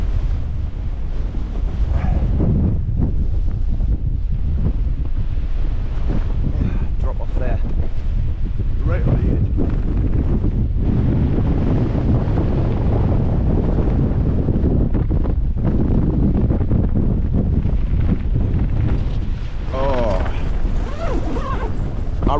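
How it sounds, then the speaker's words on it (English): Strong, gusting 35 mph wind at a stormy Lake District fell wild camp batters the microphone with loud, continuous roaring rumble throughout, and a voice is heard speaking beneath it. "Recorded that wind"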